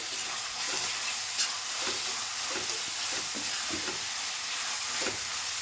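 Chopped onions and raw masala paste fry in oil in a pan, a dense, steady hiss and sizzle with a few soft stirring scrapes, close and even throughout.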